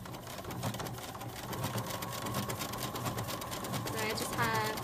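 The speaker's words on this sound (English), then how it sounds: "So I'm gonna go ahead and start stitching that with my decorative stitch." Home sewing machine running steadily through a decorative stitch on jogger fabric, a continuous close whirring hum with a faint rhythmic chatter and a soft voice underneath.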